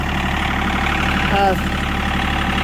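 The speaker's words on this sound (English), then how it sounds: "Warming up the tractor" A John Deere E3032 compact tractor engine warms up at idle, with a steady, close mechanical drone throughout and a brief tonal whine partway through.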